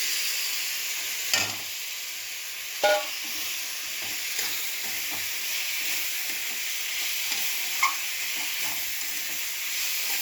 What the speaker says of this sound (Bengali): কষিয়ে রাখা আলুটা এবারে আমি ঢেলে দিলাম।